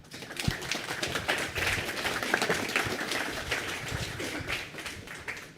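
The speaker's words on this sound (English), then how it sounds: "Big round of applause for Zach." A small group claps in a scattered, light patter that holds steady for several seconds before thinning out.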